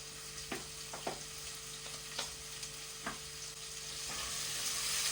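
Lots of onions sizzling in a pot for Hungarian goulash as a spoon stirs them, giving a soft steady fry broken by several scraping clicks of the utensil, fairly quiet and close.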